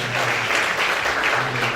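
A church congregation at an Easter Sunday service claps together in a short, continuous burst of close, dense applause over a faint low hum.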